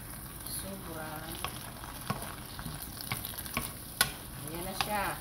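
Dried fish (tuyo) frying in a pan, a steady close sizzle with soft crackles and occasional clicks of stirring, and a faint voice now and then.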